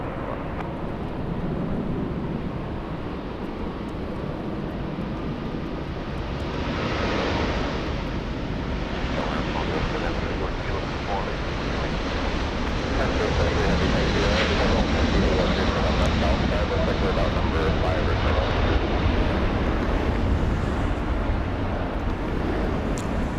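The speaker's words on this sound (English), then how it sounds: "Qantas 17, that's an extra flight from Sydney today. 787-9, 13-hour flight" A Qantas Boeing 787-9 jet at LAX roars steadily and loudly, its engine noise broadband and sustained the whole time, with some wind rumble on the microphone. Voices come in now and then.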